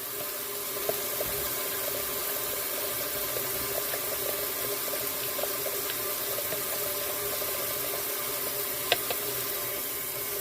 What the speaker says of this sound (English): water running hot